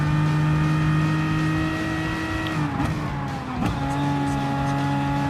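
BMW M6 race cars driving hard in Gran Turismo Sport, a loud, sustained engine whine that dips briefly as the revs drop mid-run, then climbs back to a steady high drone.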